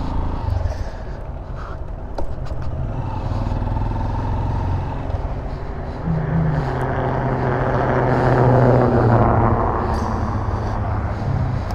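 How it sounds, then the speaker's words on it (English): A truck with noisy tires passes a rider on a Honda XR150L motorcycle. Loud road roar swells and fades over steady wind and engine noise. "That's a noisy tires on that truck,"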